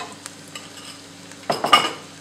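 Onion gently frying in a pan for a carp dish: a faint, quiet sizzle gives way to a few louder scraping stirs near the end.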